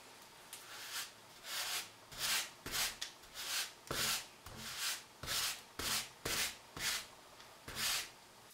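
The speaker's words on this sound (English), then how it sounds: "And then grout the tile. With this thing. It's called a float." A grout float spreads grout across tile in a steady series of rhythmic rubbing, scraping strokes, each a short sweep roughly once a second, close and alone with no talk.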